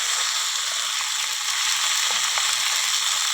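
Bottle gourd and chickpeas fry in a hot pan, giving an even, close, continuous sizzling hiss with no talk.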